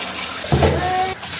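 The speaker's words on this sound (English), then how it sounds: "we start running water" Tap water running into a bath, a steady hiss of flowing water throughout, with a voice and brief speech over it in the middle.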